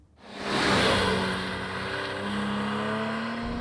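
A 3.8 litre sports car engine with individual throttle bodies and a cable throttle rises sharply in a loud rev, then holds a steady, strong drone with climbing harmonic tones, close by and alone.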